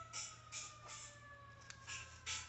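A faint, far-off emergency vehicle siren wails in repeated rising tones over a low background hum.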